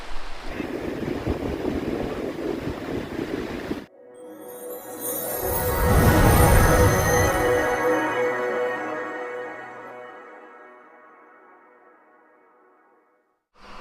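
Sea waves and wind on the seaside at Dapoli, a broad roaring surge that swells and fades, heavy wind buffeting the microphone at first, then a washing wave peaking midway before dying to quiet; no talking.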